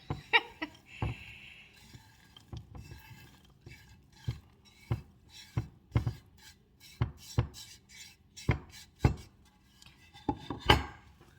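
Crumbly coffee cake topping being stirred in a bowl, with repeated scraping and clinking of a utensil against the bowl in an irregular rhythm, close and fairly quiet.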